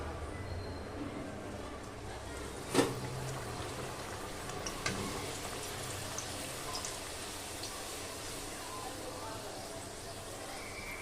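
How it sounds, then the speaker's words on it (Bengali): Luchi (puffed flatbread) frying one at a time in hot oil, a quiet, steady bubbling hiss that runs throughout, with one soft clunk early on. "এবার আমি এক এক করে লুচিগুলো ভেজে নেব"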